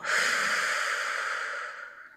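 One long, breathy exhalation close to the microphone, steady and then fading away at the end.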